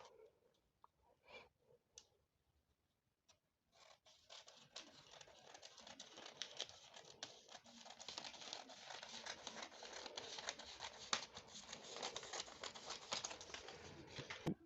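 A paper sewing pattern piece for a princess bustier is cut with scissors, giving steady close crinkling and snipping rustle that starts after a few quiet taps and runs on continuously.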